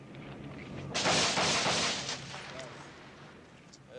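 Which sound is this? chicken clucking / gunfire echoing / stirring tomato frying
gunfire echoing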